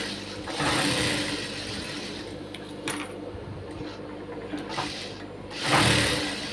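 An electric sewing machine stitches a blouse in several bursts of fast, steady needle chatter, loud and close, separated by short pauses and with no talking.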